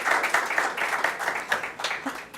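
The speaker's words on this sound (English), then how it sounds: "we need a louder round of applause for Mr. Joshi, Vibhas Joshi" An audience applauds after a three-hour business leadership session on leading change, a dense, steady patter of many hands clapping at moderate volume throughout, with a faint voice underneath.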